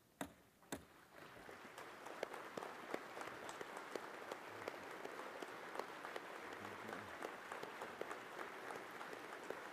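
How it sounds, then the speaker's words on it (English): A standing audience at the annual Grand Lodge of Free & Accepted Masons of Pennsylvania gathering applauds distinguished guests, a few sharp early claps swelling into steady, fairly faint, continuous clapping from many hands. "please stand and give a round of applause for our distinguished guests."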